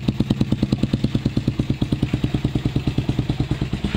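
A Raider 150 carburetor motorcycle engine idles close by after startup in a fast, even rhythm of throaty pulses, steady throughout with no voices.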